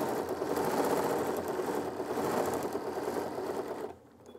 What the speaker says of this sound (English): And it won't stitch until I move the fabric.